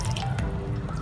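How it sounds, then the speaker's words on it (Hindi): Water is poured into dum aloo curry in a pan, a brief, soft trickle and splash lasting about a second, with no voices. "आधे कप के करीब पानी डाल दिया है मैंने इसमें"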